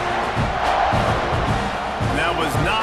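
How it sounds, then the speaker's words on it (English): A stadium crowd in EA Sports College Football 26 roars steadily after a score, a broad, dense cheering wash with a few whoops, while indistinct voices are heard over it. "this crowd is buzzing after that last score"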